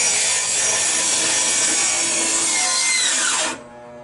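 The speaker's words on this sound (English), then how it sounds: "Getting ready to rip this board down to 3-inch wide strips" A power saw rips a wooden board lengthwise into 3-inch strips, a loud steady cutting whine for about three and a half seconds that stops abruptly.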